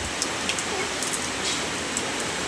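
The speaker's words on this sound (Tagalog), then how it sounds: "Nag-uwan na." Heavy storm rain pours down in a dense, continuous hiss, close and loud, with occasional brighter drips and no voices.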